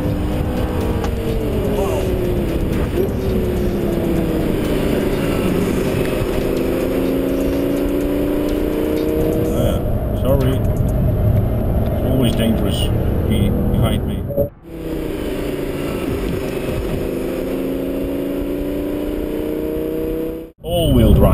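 An Audi A8 L Security W12 cruises at 140 km/h with a loud, steady engine and road roar rising and falling slightly in pitch, heard from the cabin while people talk over it.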